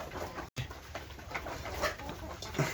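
Sonali hens on a small egg farm of about sixty birds make soft, scattered calls and low coos at close range, with light rustling and no speech.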